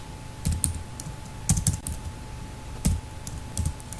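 Someone types code on a computer keyboard: short clusters of crisp key clicks in quick bursts with pauses between them, close and fairly quiet over a faint steady hum.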